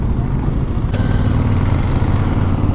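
A Triumph Daytona 675 motorcycle engine runs steadily at close range, a continuous low drone that holds level without pause, with no talk over it.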